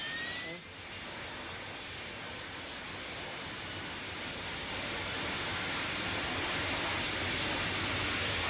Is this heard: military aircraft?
yes